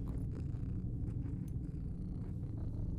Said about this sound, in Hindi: यहाँ पे कुछ है ये बिल्ली